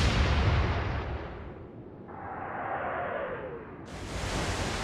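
Naval guns on a warship booming in the Atlantic Fleet game, several heavy broadband blasts with a whooshing shell passage between them, loud and continuous with no talking.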